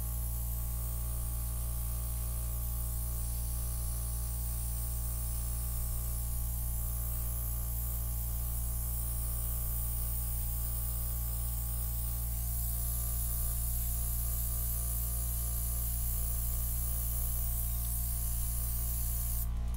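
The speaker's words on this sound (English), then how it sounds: "This little airbrush is only 25 psi." A small low-pressure 25 psi airbrush spraying acrylic paint gives a continuous, even hiss with a steady hum underneath, running unbroken and close for the whole stretch with no talking.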